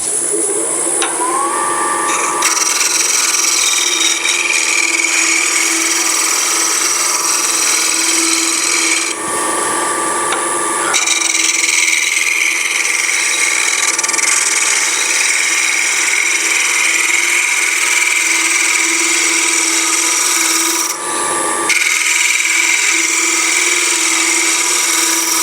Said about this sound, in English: Let's scrape a tiny bit off it.